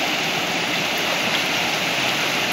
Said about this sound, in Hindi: और ये पानी देखिए झरना